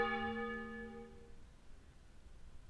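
A single deep temple bell struck once for New Year's Eve in the horror game Ib, its rich ringing tone fading slowly into quiet ambience.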